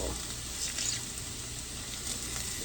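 Slices of Spam fry crispy in a pan, a soft, steady sizzle with faint crackles, close by and fairly quiet.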